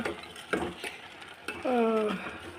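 A spoon scrapes and stirs a boiling gooseberry mixture around a metal pan in uneven strokes, with a brief squeaky tone partway through.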